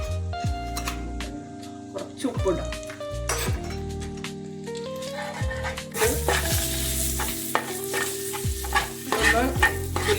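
Egg curry masala made with chilli powder in coconut oil is stirred and roasted in a pan, giving repeated scraping spoon strokes and occasional clinks over a sizzle that grows fuller midway, close up and with no talking.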